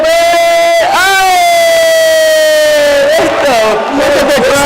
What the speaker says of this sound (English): Look at the crowd going wild